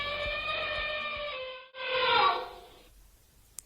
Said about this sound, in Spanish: se escuchó el elefante